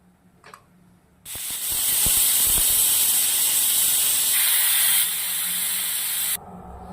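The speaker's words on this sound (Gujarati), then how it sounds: "બે સીટી પડી ગઈ છે." A pressure cooker cooking dal with spices lets out a loud, sustained whistle and steam hiss that starts abruptly and cuts off after about five seconds, with a faint clink of utensils before it begins.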